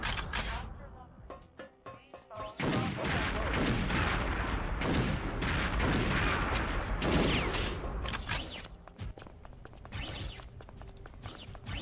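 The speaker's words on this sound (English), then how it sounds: "Those were some insane nade shots to pass away the guards." Grenade explosions in Perfect Dark, the first-person shooter: a dense run of loud, close booms and blasts that overlap one another, with sharp cracks and clatter mixed in.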